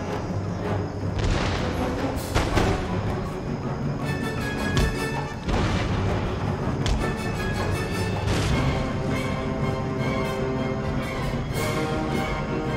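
Cannon and artillery fire in the video game Empire: Total War, with repeated heavy booms and crashes landing at uneven intervals over a busy, rumbling battle din.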